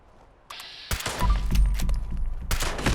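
Shots from a Furious lever action rifle with faster fire rate in Fallout 76, aimed at a turret: a mechanical click, then loud, close reports and rapid booming impacts packed into a couple of seconds.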